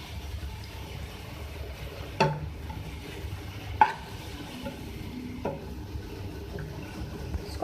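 Onions fry softly in ghee, a faint sizzle beneath occasional sharp scrapes and taps of a spoon stirring against the pan, with a few distinct knocks spaced through the quiet.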